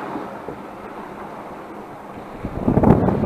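Wind of about 15 knots rushes over a sailing boat at sea, a steady blustery roar with microphone buffeting and a louder gust or splash of water near the end.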